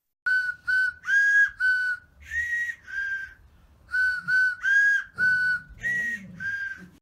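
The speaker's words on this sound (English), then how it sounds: "his carrot orchestra, doing a pretty good stab at happy birthday" A carrot hollowed into a whistle-like instrument plays the Happy Birthday tune as a series of short, pure piping notes with brief gaps, clear and close, with no voices.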